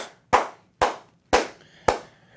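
One person clapping slowly and deliberately, five sharp, evenly spaced claps close up, each ringing briefly before the next.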